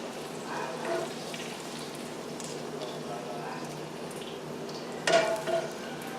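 Onions frying in a ceramic pan for liver and onions give a low, steady sizzle, with a few utensil scrapes and a louder clatter near the end.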